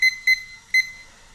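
A kitchen timer set during a coffee cupping session beeps three times in short, bright bursts, the first two close together and the third after a pause, clear and alone in a quiet room.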